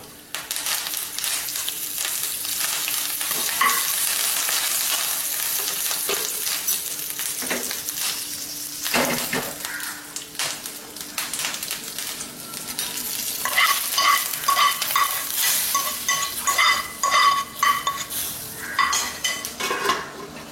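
Asafoetida and curry leaves hit hot oil in a pan while tempering Thuthuvalai rasam, giving a bright, crackling sizzle with a spoon stirring and clinking against the metal pan, close and without any voices.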